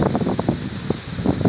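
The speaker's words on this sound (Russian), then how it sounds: "Очень сильный ветер на море." Strong wind by the sea batters the microphone in short gusty buffets, a loud, close rushing roar with uneven bursts over a brief stretch.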